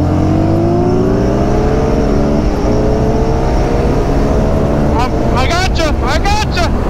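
An Indian FTR1200 and a Yamaha MT-09 SP motorcycle accelerate hard together in second gear from about 40, engines rising in pitch continuously, loud and close, with quick upshift-like bursts near the end.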